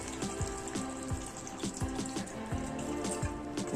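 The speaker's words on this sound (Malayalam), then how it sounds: "നമുക്കിനി ചിക്കനിലേക്ക് അല്പം വെള്ളം കൊണ്ട് ഒഴിച്ചു കൊടുക്കണം." Water is poured into a pot of village-style chicken curry, giving close, splashy trickling with small rhythmic glugs and drips, heard alone without speech.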